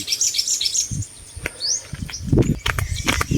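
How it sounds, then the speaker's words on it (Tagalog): Birds chirp and tweet in a rural Philippine farm setting near a dragon fruit plot, with several high, quick calls and trills, some near and some farther off, over soft ambient rustle and no speech. "Naririnig niyo mga huni ng ibon."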